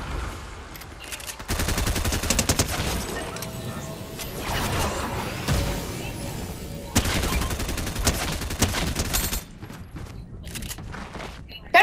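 SMG fire in the video game Fortnite sounds in long, rapid, close bursts that run almost continuously with brief gaps, over busy game noise and some voices.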